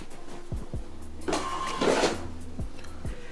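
A bar receipt printer prints an order, giving a steady mechanical whir with a louder feed buzz in the middle and rhythmic clunks at the start and end, heard close and alone.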